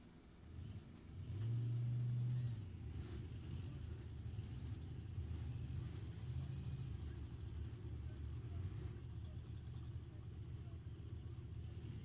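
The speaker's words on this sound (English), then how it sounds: "Let's make some funny car noise next. Here come the California funny cars" Nostalgia funny car drag racing engines at an NHRA heritage reunion in California: a loud roaring engine surge early on, then sustained low rumbling of engines throughout with crowd noise.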